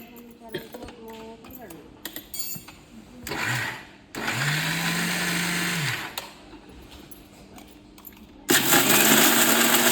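A mixer grinder grinding malt powder whirs in three short runs, the longest lasting a couple of seconds, loud and close, with voices talking between the bursts.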